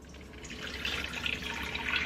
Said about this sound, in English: I'm going to add that 4 cups of water to these turkey tails